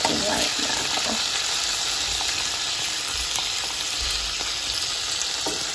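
Sausages, bacon and eggs sizzle steadily in a frying pan, a dense continuous crackle at close range with a few soft clinks of stirring.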